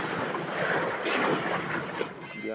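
Strong wind buffets the microphone aboard a fishing boat at sea in rough water, a dense continuous roar with gusting swells and no speech.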